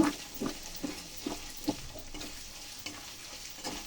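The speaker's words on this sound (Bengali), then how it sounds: "ভেজে রাখা পেঁয়াজ বাটাটা তেলের সঙ্গে ভালো করে মিশিয়ে নেব" Onion paste stirred and fried in oil, with a spoon scraping the pan in a regular rhythm of roughly two strokes a second over a low, continuous sizzle, close and fairly quiet; no talking.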